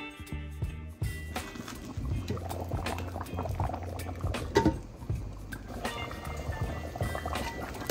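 A pot of liquid for brown gravy, with hamburger steaks added, bubbling at a rolling boil, with uneven gurgles and pops close by and a few louder bursts.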